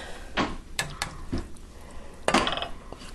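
A spoon and ceramic pasta bowls are handled while chili mac is served, with a few separate clinks and knocks of utensil against dish at irregular intervals, close by and moderately quiet.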